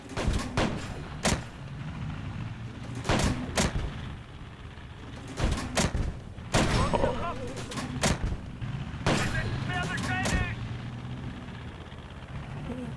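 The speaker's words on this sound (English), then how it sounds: "keep pinging away at that turret" Gunfire pinging away at a turret: repeated sharp shots at irregular intervals, some in quick pairs, over constant background noise, with voices briefly heard between them.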